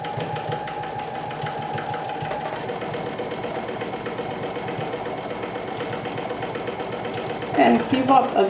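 A home sewing machine stitches steadily around the edge of a fabric garment front with a narrow seam allowance, a continuous close mechanical whir that hums evenly throughout, ending with a few louder clunks and handling noises.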